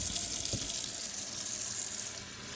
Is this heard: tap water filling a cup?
yes